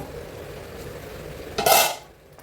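Metal lid set down onto a pot of chicken palak curry cooking on medium flame, a single short clatter and ring near the end after quiet kitchen background.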